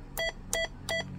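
Three short, evenly spaced electronic beeps come from pressing the buttons of a President Lincoln 2 plus CB radio, clear and close against a low background hum.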